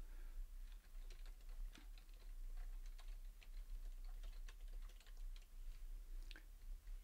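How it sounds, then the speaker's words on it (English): Fast, quiet typing on a computer keyboard, with irregular bursts of light key clicks throughout against a low hum and no speech. "So I'll just type it in very quickly."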